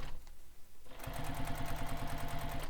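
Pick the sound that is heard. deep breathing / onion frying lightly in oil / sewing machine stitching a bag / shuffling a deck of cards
sewing machine stitching a bag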